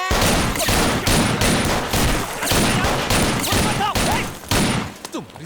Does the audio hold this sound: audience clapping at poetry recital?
no